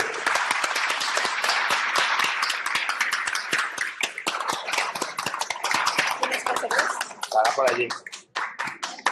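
Dense, steady clapping from an audience at a constituent assembly of a local political circle, loud and sustained for several seconds before thinning out and breaking off near the end, with voices talking over it throughout.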